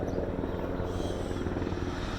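A helicopter passes overhead as a steady, loud, broadband rotor and engine rumble that holds throughout without letting up.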